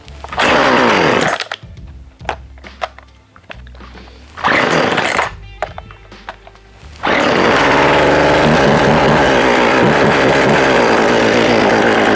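A refurbished Husqvarna 136 chainsaw sputters and revs in several short bursts, then roars into a loud, steady high-pitched run close by.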